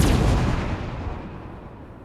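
Naval gunfire from ships in the World of Warships game, a heavy booming salvo that hits loudly at the start and rolls away in a long, fading rumble over two seconds, with no voices.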